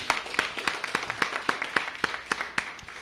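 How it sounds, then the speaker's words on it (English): A small audience at a mayoral announcement about high school programming gives a short burst of applause, with distinct, fairly regular claps from a few people. "Let's take a moment to give the redesign team a round of applause."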